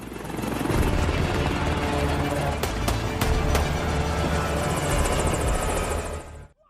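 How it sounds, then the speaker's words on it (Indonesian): A helicopter flies away in a film scene, its loud steady rotor thrum and engine whine continuing for several seconds before fading out abruptly at the end. "Helikopter pun langsung menjauhi Scotchy karena takut sang kapten akan didor oleh perompak"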